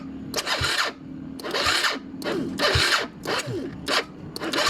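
Yamaha Mio scooter with a starter issue, its electric starter cranking in five repeated bursts of whirring and grinding, each about half a second apart, close and fairly loud, without the engine catching.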